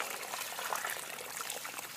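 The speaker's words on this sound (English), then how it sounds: "we're just going to fill this hole and let it soak" Brook water poured into a hole dug in the ground to soak, a steady hissing, trickling splash heard close and alone.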